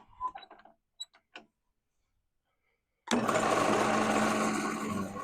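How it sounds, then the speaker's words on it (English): A wood lathe takes very fine shavings under a light touch of the tool: a few faint taps, then a pause, then a loud, steady whirring hiss fills the last two seconds. "These are the really fine shavings that are coming off there."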